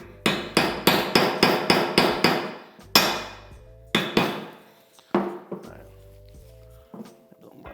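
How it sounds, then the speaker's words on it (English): Metal-on-metal hammer taps drive a seal into a Honda CB350/CL350 engine case, struck through a socket used as a driver: a steady run of about nine sharp, ringing blows, then a few slower, separate taps, close and loud. "The socket makes a good drive tool, and I'm just going to tap it in gently here"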